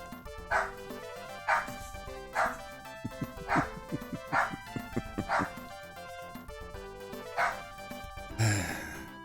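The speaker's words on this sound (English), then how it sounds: "And I have a yappy behind me." A small yappy dog barks in a rapid series of sharp yips at fairly regular intervals, close by and clear, ending in a brief burst of noise.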